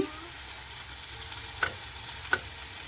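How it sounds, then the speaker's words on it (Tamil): Green beans being stirred in milk in a pan, a soft low simmering bed with two brief clear scrapes of the spoon near the end. "சேர்த்து ஒருக்கா வடிவாக அப்படியே பிரட்டி விடுவோம் இந்த பாலில்"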